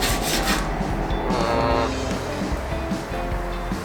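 Hand wet sanding on a Toyota Corolla body panel during a cheap DIY paint job: steady close rasping and rubbing strokes, continuous and fairly loud, with a brief tonal squeak partway through.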